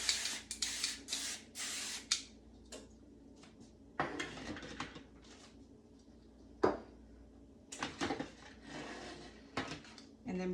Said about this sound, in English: spray it with your cooking spray